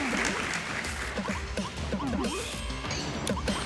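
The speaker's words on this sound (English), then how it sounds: "Everyone, please cheer for that one person." Crowd cheering and applauding for the last remaining player in a Tetris 99 match at Summer Games Done Quick 2025, a steady, loud wash of noise lasting throughout, with a few voices shouting over it.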